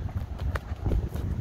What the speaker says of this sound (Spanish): Aquí vienen otros caballos.